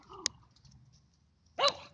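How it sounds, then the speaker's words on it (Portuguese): Two sharp dog barks, one early and a louder one near the end, separated by a quiet pause. "Os cachorros aqui."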